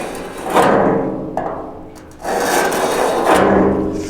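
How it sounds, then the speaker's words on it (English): Scribing a line along the side of a 1967–72 Chevy or GMC truck bed, a scraping rub in three long strokes with brief pauses between them, close and fairly loud with no talking. "use something like this, and it's going to scribe that line out nice and consistent"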